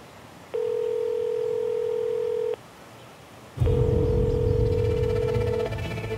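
A phone ringing on a call sounds in two steady tonal bursts, the second one longer, clear and near, with no talk over it.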